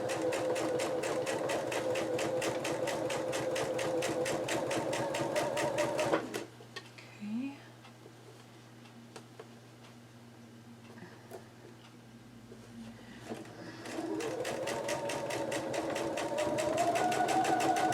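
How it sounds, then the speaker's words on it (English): A sewing machine stitches a quilt seam, its needle running in a fast, steady mechanical patter, stopping for a stretch of quieter handling with faint movement, then starting up again and speeding up. "There we go, now it's sewing quicker."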